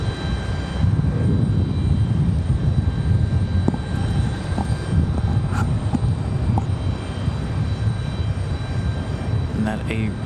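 A Breeze Airways Airbus A220 jet airliner at Raleigh-Durham International Airport rumbles with a low, steady engine roar, fairly loud and close, while a person talks over it with scattered short clicks.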